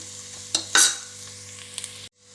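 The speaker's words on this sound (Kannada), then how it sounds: "ಈರುಳ್ಳಿ ಫ್ರೈ ಆವೊಂದು ಬತ್ತಂಡು" Onions sizzle in a pan as they fry, with a steady hiss broken by a few sharp scraping stirs before the sound cuts off abruptly near the end.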